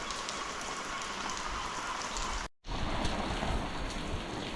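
Steady rain pattering on the streets of Essaouira, a whitewashed Moroccan town by the ocean, a dense even hiss that cuts out for a split second midway before resuming.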